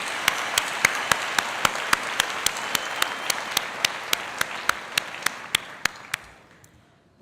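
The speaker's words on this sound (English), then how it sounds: "Let's have another round of applause for the master's and specialist degrees." Audience applause at a fall university commencement ceremony, a dense steady wash of clapping with a few sharp louder claps standing out, gradually thinning and fading out near the end.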